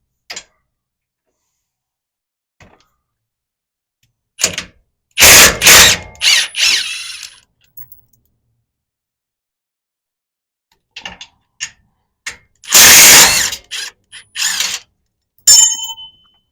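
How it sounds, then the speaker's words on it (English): Hand and power tools working on the sway bar bolts of a bracket, heard as loud close bursts of a drill or ratchet gun spinning in short runs, separated by quiet pauses and faint metal clinks. "now we're going to remove the two sway bar bolts on the bracket"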